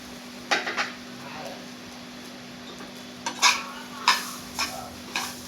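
Coconut being stirred and roasted in a pan after poppy seeds: a spoon scrapes and clinks against the pan in a few sharp, irregular strokes over a steady low hum and faint background hiss.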